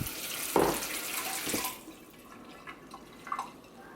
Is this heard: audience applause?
no